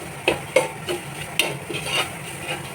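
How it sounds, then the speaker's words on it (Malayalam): Grated coconut dry-roasting in a pan while being stirred, giving a soft steady sizzle broken by several sharp scrapes and knocks of a spoon against the pan, close and fairly quiet. "ഇനി നമ്മുടെ അടുത്ത സ്റ്റെപ്പ് എന്ന് പറഞ്ഞു കഴിഞ്ഞാൽ ഈ തേങ്ങ ഒന്ന് വറുത്തെടുക്കണം"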